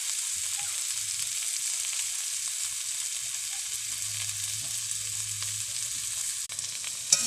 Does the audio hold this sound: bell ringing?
no